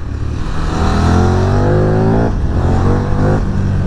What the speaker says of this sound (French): Regarde, je vais accélérer à fond.